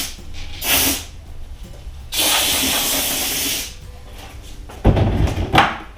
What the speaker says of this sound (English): So I'm just going to run it down with some fine sandpaper.